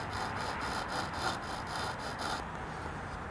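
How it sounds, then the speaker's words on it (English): Angle grinder shaping and coping wood trim, giving a steady rasping grind with rhythmic strokes at moderate distance, quieter near the end. "I was just kind of saving that piece right there just to see if I could do it with the angle grinder"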